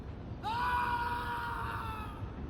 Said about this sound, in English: A guttural scream interrupted my thoughts